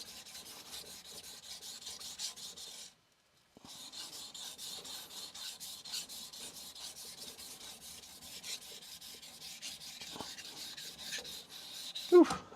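A single bevel Tsubazo deba knife is polished on a Chosera 400 whetstone with light pressure. Close, soft, rhythmic scraping strokes repeat steadily, and there is a brief pause near the middle.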